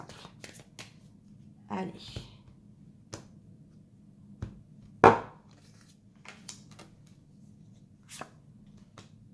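Tarot cards shuffled and dealt into three piles on a table, with crisp riffles, soft slaps and taps of cards landing close by, while someone speaks briefly.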